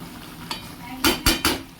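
Bitter gourd and yardlong bean curry being stirred in a frying pan, with three quick scraping, sizzling strokes close by after a faint earlier touch, and no voices.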